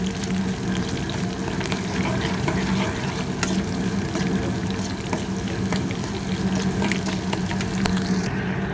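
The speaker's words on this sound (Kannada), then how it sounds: "ಕರ್ಬೇವಿನ ಸೊಪ್ಪು, ಹಸಿಮೆಣಸಿನ್ಕಾಯಿ ಹಾಕಿ ಒಂದು 3 ನಿಮಿಷ ಚೆನ್ನಾಗಿ ಫ್ರೈ ಮಾಡ್ಕೊಳ್ಳೋಣ" Garlic, curry leaves and green chillies frying in a pan for lemon rice make a steady, dense sizzle and crackle, with a faint scrape of stirring and a low background hum throughout.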